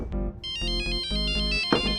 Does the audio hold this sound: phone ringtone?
yes